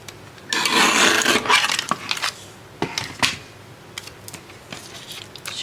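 Scissors or a paper trimmer cutting scrap paper while making a decorative punched pocket, with a dense rustling snip up front followed by several short crisp cuts and paper handling, close and fairly quiet.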